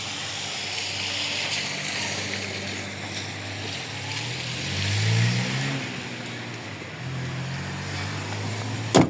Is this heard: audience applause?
no